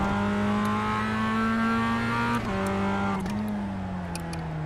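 A Mazda race car engine in the iRacing simulator at the Hungaroring holds a steady high drone, pitch stuttering briefly between 6,000 and 7,000 rpm before settling and slowly dropping, loud and continuous with no talk.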